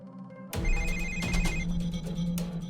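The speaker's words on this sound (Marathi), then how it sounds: "घरनं फोन येतोय." A phone rings with an incoming call in a home, its electronic ringtone bursting in suddenly and repeating in quick melodic pulses, loud and close over a faint room background.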